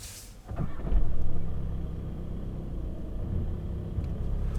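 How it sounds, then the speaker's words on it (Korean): A Volkswagen Passat GT inline-four diesel engine starts, then settles into a faint, steady low idle rumble with no speech. "아무래도 디젤이기 때문에 그 특유의 좀 이렇게 덜덜거리는 소리는 좀 들리는 편이고"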